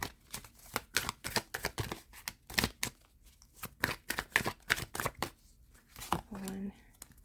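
Tarot cards shuffled in quick riffling bursts, crisp papery flutters and snaps running throughout, mixed with a person talking over them.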